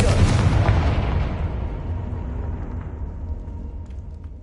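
A Confringo explosive spell from Hogwarts Legacy detonates with a loud booming blast that then rumbles and fades away slowly over several seconds.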